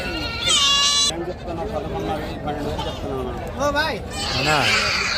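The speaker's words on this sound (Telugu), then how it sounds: "మేక పిల్లలు వచ్చేసి ముందుకు లాగితే వెనక్కి వెళ్తూ ఉన్నాయి" Goats and young kids bleat repeatedly at a busy livestock market, several loud nearby calls rising over constant chatter and crowd babble.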